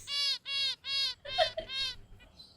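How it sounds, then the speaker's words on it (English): Finch-like chirps arrive in a quick series of four clear, evenly spaced tonal calls followed by a few softer, trailing notes, close and alone without talk. "finch noises are absolutely my favorite"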